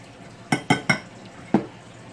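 A utensil clinks against a bowl while egg salad is mixed, four sharp ringing taps, three in quick succession and then one more after a short pause, over a quiet background.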